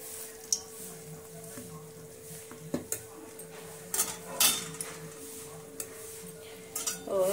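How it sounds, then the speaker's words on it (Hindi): Fried pakoras dropped into kadhi in a pot, giving a few soft plops and metal spoon clinks against the pot, scattered over a quiet kitchen with a steady background hum. "और इसमें पकोड़े डालती हूँ।"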